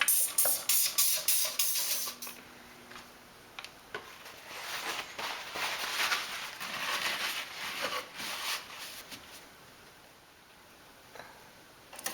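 A spray bottle of soapy washing-up water squirts onto paper wallpaper in a dolls house, opening with a quick run of sharp hissing pumps, then softer irregular sprays and fading hiss, close and without talk.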